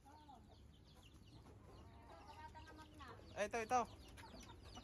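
Chickens cluck from a cage on a rural farm near a mountain area in the Philippines, with a few short, louder clucks near the end rising over steady background noise while someone talks.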